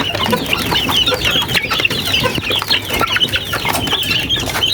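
A sick young chick peeps hungrily in a coop, mixed with clucking from nearby chickens, a steady run of short, high, repeated calls close to the microphone with no voices.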